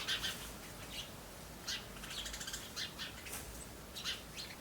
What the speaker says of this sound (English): the baby birds don't want to go to sleep and the parents are very upset